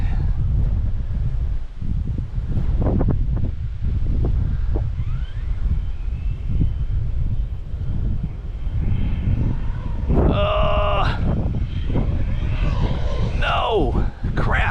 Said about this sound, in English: that wind's just picked up like crazy, man